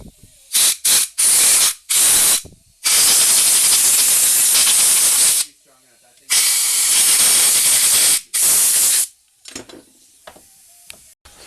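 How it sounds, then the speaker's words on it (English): Loud bursts of compressed air hiss in repeated sprays onto a carburetor during cleaning, some short and sharp, others sustained for a few seconds, with brief silences between. "grab some compressed air"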